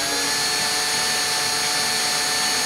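Small drill bit boring into a part of a 1JZ-GTE engine, a steady high-pitched whirring drone held at constant speed, close and fairly loud for a few seconds.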